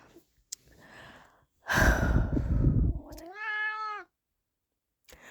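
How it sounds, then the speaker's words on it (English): A cat meows close and loud in a quiet indoor room: a short breathy noise, then a long strained caterwaul followed by a wavering tonal meow, with a faint tick near the end. "I hope you like cat noises, because that's what's happening here."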